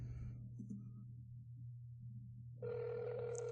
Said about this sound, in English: Phone's ringing right now.